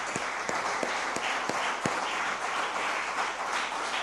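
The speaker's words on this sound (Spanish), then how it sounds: "denle un aplauso a Dios" A church congregation claps together, a fairly soft, steady patter of many hands with a few sharper individual claps standing out, heard from a distance in a worship hall.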